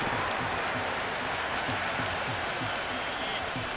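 Stadium crowd roars and applauds without a break during a T20 World Cup cricket match between India and Pakistan in Cricket 26, a dense, steady wash of cheering with a voice murmuring underneath.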